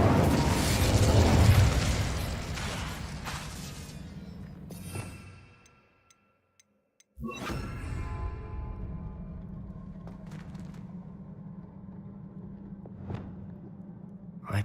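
A fire spell cast in the video game Hogwarts Legacy, a loud, dense burst that fills the opening seconds and trails off, then drops to near silence before a second sharp blast breaks in, followed by steady rumbling game ambience and a later crack.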